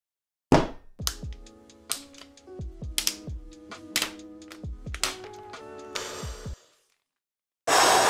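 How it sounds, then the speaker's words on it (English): Cellophane wrap being peeled off the packaging of a silver and black Apple Magic Keyboard with Touch ID, heard as a close series of sharp crinkles, taps and tearing rustles that stop abruptly near the end. "We shall flip it over and uncellophane it."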